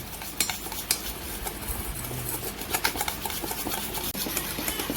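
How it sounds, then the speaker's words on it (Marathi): Yogurt, jaggery and coffee powder being whisked together for a bajra cake batter, giving quick, close clinking and scraping against the bowl with a soft, continuous wet stirring underneath. "आता आपण छान मिक्स करून घेऊया सगळं. याला जवळजवळ 2 ते 3 मिनिटं चांगलं फेटून घ्यायचं."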